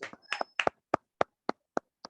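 Audience applause welcoming a speaker to the stage at a sales seminar, a short sparse run of separate claps, a cluster at first and then slowing, evenly spaced single claps, fairly faint and with no talk.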